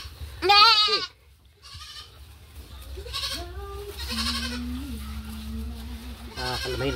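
A young female goat kid bleats in a farmyard, several loud wavering bleats close by including one long drawn-out cry, over steady background noise and murmuring voices.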